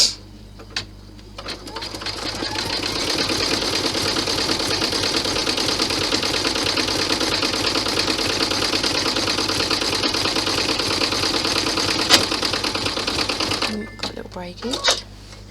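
An embroidery sewing machine stitches an in-the-hoop golf ball bag, a steady loud mechanical whir and rapid needle chatter lasting most of the time, with a few clicks and handling sounds at start and end.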